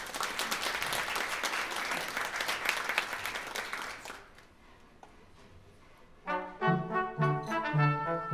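An audience at a brass ensemble concert applauds loudly and densely for about four seconds, then the clapping fades out and brass instruments begin playing sustained chords.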